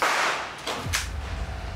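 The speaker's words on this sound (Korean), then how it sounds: "보스의 위협 사격." A boss fires threatening gunshots during a military combat exercise: two or three sharp cracks close together, followed by a low, lingering rumble and no talking.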